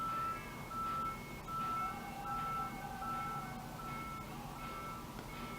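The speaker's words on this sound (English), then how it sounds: "I don't know why is it that every time you decide to film, there's trucks backing up." Trucks backing up outdoors, their repeated high reversing beeps sounding at steady intervals, faint and distant through a wall beneath a low background hum.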